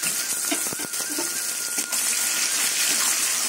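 Chopped onions hit hot oil in a pan while cooking greens with fish head, giving a steady loud hiss and crackle that continues throughout with a few sharp pops.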